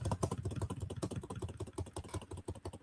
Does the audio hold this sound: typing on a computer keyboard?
yes